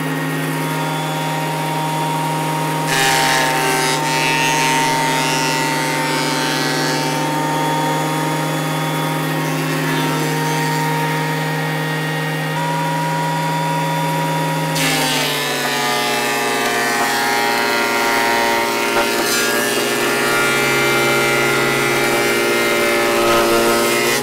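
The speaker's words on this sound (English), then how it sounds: "So I'm gonna use the planer now." A thickness planer feeds pine and oak boards for a wooden pen box, giving a loud, steady machine whine with a harsh planing roar that shifts partway through as a new board enters, continuous throughout with no talk.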